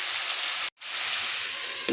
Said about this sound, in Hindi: अब ये जितनी देर में मसाला पकते हुए यकजान होगा तो मैं इसे ढक कर पकाती हूँ